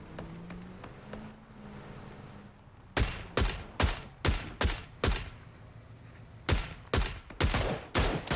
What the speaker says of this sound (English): They hear so many shots from Virtus Pro.